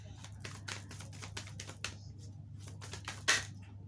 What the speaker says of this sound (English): So I will shuffle again because it doesn't feel right.